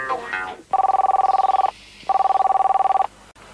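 An old telephone bell rings in two rapid trilling bursts, each about a second long with a short pause between them, loud and close. A brief voice comes just before the rings.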